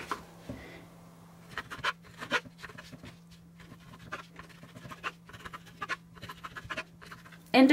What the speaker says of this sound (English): I'm going to take my ham and I'm just going to cut it